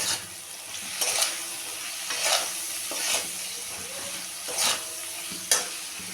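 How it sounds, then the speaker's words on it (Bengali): Spices for a fish curry stirred as they fry in a pan, with a steady close sizzle and several scraping strokes of a spoon across the pan. "একটু নেড়ে নেব"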